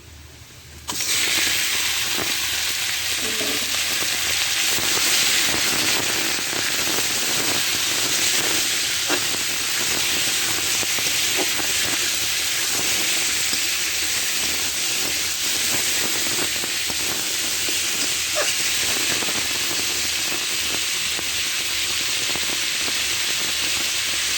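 Chicken coated in a light meat masala hits a hot kadai and fries with a loud, steady steam-like hiss that holds evenly for over twenty seconds, with no voices.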